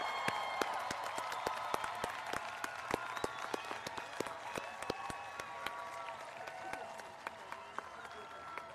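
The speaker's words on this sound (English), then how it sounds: "Can we get one more round of applause for the class of 2021?" Audience applause at a high school commencement for the class of 2021, a moderate field of scattered, crisp hand claps from a crowd, steady then thinning toward the end, with faint voices underneath.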